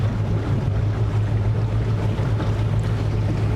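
Mercury Racing marine engine holding steady around 2,000 rpm on open water, a constant close low drone with wind buffeting the microphone and splashing water beneath, alone without any voices.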